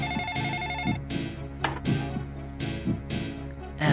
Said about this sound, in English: Hey, the phone's ringing, speak of the devil